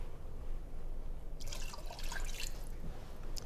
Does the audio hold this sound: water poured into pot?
yes